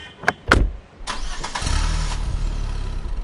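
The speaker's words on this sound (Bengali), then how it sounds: "ফোনটা রেখে আমি ট্যাক্সির অপেক্ষা করতেই একটা ট্যাক্সি চলে এলো আমার সামনে।" A taxi pulls up with two short knocks, then its engine cranks and catches and settles into a steady close idle, used as a sound effect in a Bengali romance audio story.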